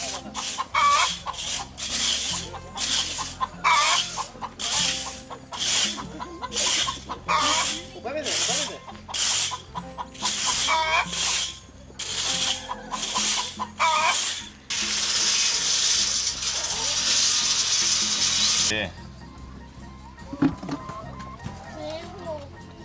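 Chickens cluck and squawk in quick bursts throughout, with children's voices mixed in, then a loud rush of running water near the end.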